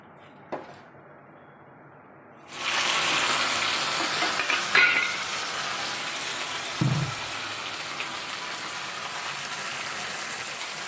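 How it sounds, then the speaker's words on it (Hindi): Potatoes frying for aloo bonda curry: after a soft opening knock, a loud, steady sizzle of hot oil starts suddenly and continues, with a dull thud partway through. "तो मैं आलू बोड़े की सब्ज़ी बनाऊँगी, पहले इसको फ्राई करूँगी"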